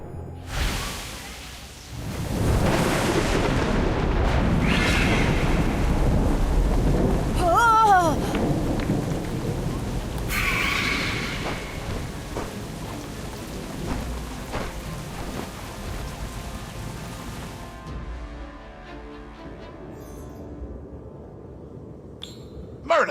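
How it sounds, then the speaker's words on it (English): Thunderstorm scene in the mobile game Harry Potter: Magic Awakened: steady loud rain with rolling thunder and whooshing gusts, fading slightly toward the end, with brief game sounds mixed in. "What were you doing flying in that storm?"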